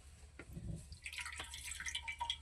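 Water poured from a small spoon into a plate during a Ganesh puja performed on a boat, heard as soft trickles and a few drips, faint and close, with no talking.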